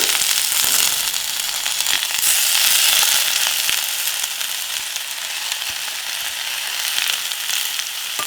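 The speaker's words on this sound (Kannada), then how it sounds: "ಪಾಲಕ್ ಸೊಪ್ಪು ಹಸಿ ವಾಸನೆ ಹೋಗೋವರೆಗೂ ಹುರಿದ್ಬಿಟ್ಟೆ ಹಾಕಬೇಕು" Spinach and softened onions fry in a pan with a steady, close sizzle and scattered crackling pops, occasional stirring scrapes breaking through; no one speaks.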